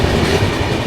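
A Shatabdi Express train running on rails with flat wheels, a loud, continuous close-up rumble of wheels on track with a steady rolling clatter that lasts the whole second.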